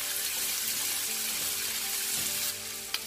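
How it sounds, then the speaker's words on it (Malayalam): Bitter gourd frying in oil over a medium flame, a steady dense sizzle throughout that eases slightly near the end, close and alone with no voices. "ഇത് നമുക്ക് തീ ഒരു മീഡിയം ഫ്ലെയിമിൽ കൂട്ടിയിട്ടതിന് ശേഷം വറുത്തെടുക്കാം."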